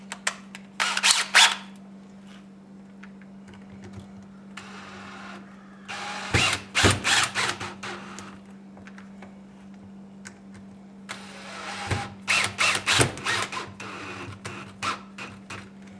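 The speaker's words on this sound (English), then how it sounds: "So there again, drill." A power drill bores into a plastic light housing for gigging lights, with several short bursts of whirring separated by quiet gaps, loud and close, while a steady low hum sits underneath.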